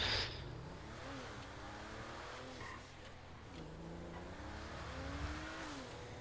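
A sports car engine humming and revving in a video game, a steady, fairly quiet drone with pitch rising and falling through gear changes, heard alone without talk.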